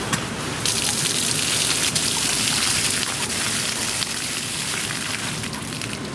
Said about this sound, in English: You can see that the water is rushing to the town.